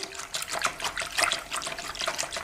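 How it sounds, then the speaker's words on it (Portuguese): Yeast stirred into water for homemade bread dough makes a close, wet swishing and sloshing in an irregular rhythm, fairly loud and without talk. "Agora vou misturar aqui o fermento junto com a água."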